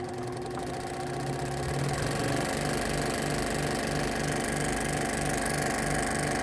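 A King Canada 16-inch scroll saw runs at full speed, giving a steady, fairly quiet mechanical hum with a rapid regular blade rhythm that swells slightly as it reaches top speed and then holds constant, close by with no voices.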